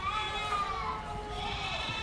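A goat, one of a Boer goat breeder's own animals, bleats repeatedly in a wavering, nasal call held through the moment, close and fairly loud, with faint background noise beneath.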